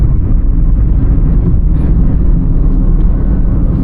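A loud, steady, low rumble of a car engine running, heard from inside the vehicle with constant road and wind noise.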